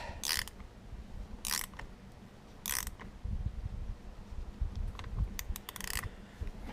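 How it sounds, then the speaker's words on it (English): Wrench clicking and ratcheting while fitting new battery cables on a 2001 Ford F-250 7.3 diesel 4x4 pickup: several short bursts of crisp clicks, close and fairly quiet, separated by gaps with low background rumble. "Flip my wrench around."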